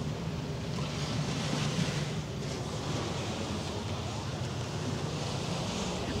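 Steady waves and wind wash over the microphone at Hamburg's harbour, a continuous broadband rush with low rumble, with no clear voices.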